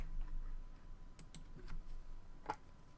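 Keys clatter on a computer keyboard during an online roleplay voice session, a few quick irregular taps and clicks, faint and close, with no talking.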